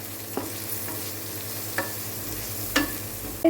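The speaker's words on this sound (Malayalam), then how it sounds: "പിന്നെ നന്നായിട്ട് നമുക്ക് ഇളക്കി കൊടുക്കാം" Vegetables stir-fried over high heat for egg noodles give a constant sizzle, with a few sharp scrapes and knocks of the spatula against the pan at irregular intervals. No one speaks.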